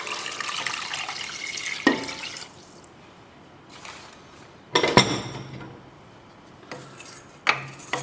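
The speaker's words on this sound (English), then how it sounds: "I'm going to add about 1 liter of water." About a liter of water splashes and pours into a pot of pasty, burned-garlic Basque garlic soup, with a few sharp clanks of the pot amid quieter trickling and dripping.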